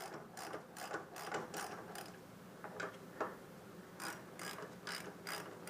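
A hand ratchet with a 14mm socket loosens bolts on a 2014 Honda VFR800 DLX during a front wheel tire change, clicking in quick bursts of rapid pawl ticks separated by short pauses. The sound is close and fairly quiet, with no voices.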